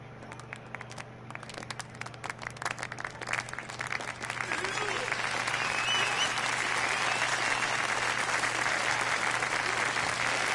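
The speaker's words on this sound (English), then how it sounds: "Even bigger applause." A cabaret audience in the video game Yakuza 0 starts with scattered claps that swell after a few seconds into loud, sustained applause from a large crowd.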